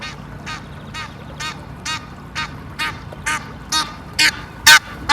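Ducks quack and an Egyptian goose honks on a river in the Norfolk Broads near Wroxham, a string of about ten sharp, evenly spaced calls that grow louder and closer toward the end over a low rumble.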